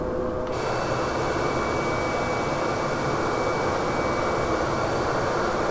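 Jet engines of a Boeing 717 airliner in a flight simulator throttle up, producing a loud, steady, broadband roar that fills the whole stretch without pause or talking.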